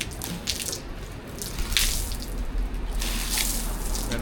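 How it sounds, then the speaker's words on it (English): Water sprinkled onto a running 20-inch waterproof outdoor wall mount fan with light, a steady splashing, hissing spray close by with brief louder bursts. "water can be sprinkled on"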